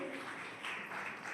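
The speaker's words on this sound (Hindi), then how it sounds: "एक बार रजनी रंजन मैम के लिए आप लोग जोरदार तालियों से मैम का स्वागत करें।" Applause from a college audience at a B.Ed. introduction session welcoming a teacher, a steady wash of clapping at moderate distance that cuts off abruptly.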